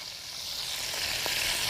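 Cabbage sizzling and frying in a skillet of hot bacon drippings, a steady broadband crackle and hiss that builds slightly over the short stretch, with no talking.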